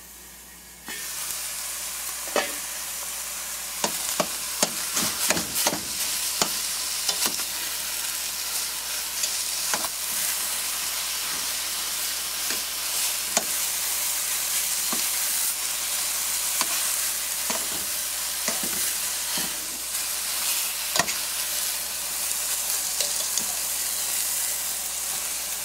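Chicken pieces for tacos sizzling steadily in a pan over low heat, a continuous frying hiss with scattered sharp pops and crackles throughout, close and fairly loud, with no talking.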